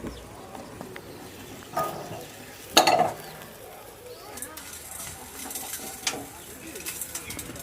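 Fenugreek seeds roasting in a pan over a wood-fired stove produce soft rustling and scraping stirs, with occasional louder clatters, a pigeon cooing nearby and someone talking over it.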